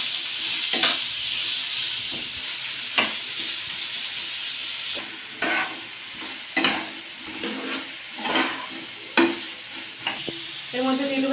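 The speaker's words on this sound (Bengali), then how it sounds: "5 মিনিট আমি ভালো করে ভেজে নেব পেঁয়াজটা, গাজরটা।" Onion and carrot frying and being stirred in a pan for chowmein, a steady close sizzle with repeated scraping stir strokes throughout, no talking.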